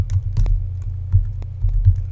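Username and password go in on a computer keyboard as a quick, uneven run of close, crisp key clicks and thumps, with nobody speaking.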